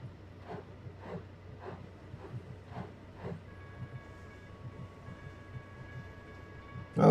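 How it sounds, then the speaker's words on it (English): A small train in the Trainz video game rolls along with a soft, regular clickety-clack, then a steady electronic tone joins in near the end. "Let's get this train going."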